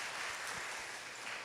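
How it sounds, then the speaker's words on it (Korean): Congregation at a Korean church Sunday service clapping to welcome volunteers, a brief, soft, even wash of many hands applauding with no speech. "우리 따뜻한 환영의 박수로 환영하도록 하겠습니다"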